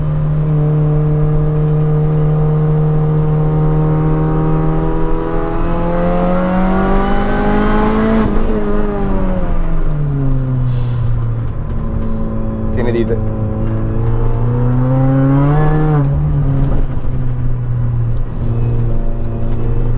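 Loud engine drone heard inside the cabin of a Mini Cooper S R53, its pitch climbing steadily, dropping, then rising and falling again as the motor revs and shifts.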